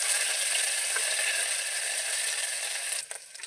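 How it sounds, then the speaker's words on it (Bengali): Chopped ginger and garlic frying in hot white oil, a loud dense close sizzle that holds steady, then eases slightly at the end as something is stirred. "এটা একটু ভেজে নেবো।"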